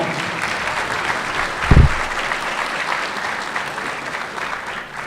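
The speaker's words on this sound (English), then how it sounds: "a round of applause for our Sheriff, Jim McDonald" Steady applause from an audience at a distinguished service awards ceremony honoring a sheriff, a dense wash of clapping holding evenly throughout with one brief low thump partway through.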